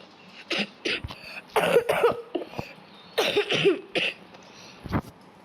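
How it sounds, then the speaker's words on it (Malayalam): Repeated coughing in several close, loud bursts with short gaps, sounding like one person with a heavy cough; no speech. "ചുമയാ, ഭയങ്കര ചുമയാ"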